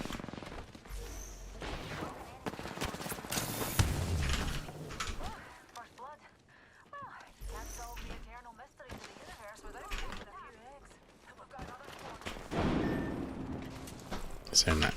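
Video game gunshots ring out in bursts among other game noises, sharp cracks scattered across the stretch while people talk over them.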